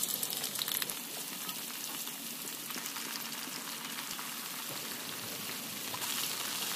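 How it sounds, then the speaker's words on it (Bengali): Fish pieces fry gently in oil over low heat, giving a continuous soft, crackling sizzle with fine bubbling, fairly quiet and steady with no talking. "এবার তেলের মধ্যে মাছগুলোকে অল্প আঁচে ভেজে নেব"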